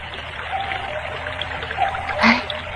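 A widening, deepening river flows in a radio drama, a continuous trickling and rushing of water with a small splash near the end, steady and moderately close.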